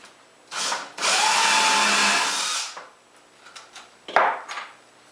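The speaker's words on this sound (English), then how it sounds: "So now I can go ahead and drill the holes." A power drill bores holes into the wooden frame of an Adirondack chair, giving one sustained whirring burst of about two seconds after a short start, followed by clatter of wood and tools being handled nearby.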